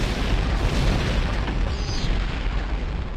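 A scorpion launcher blast in the video game Turok 2 on the Mantid homeworld, heard as a loud, sustained booming explosion with a deep rumbling roar that fills the whole moment with no talking.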